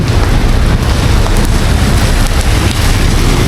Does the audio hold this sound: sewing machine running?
no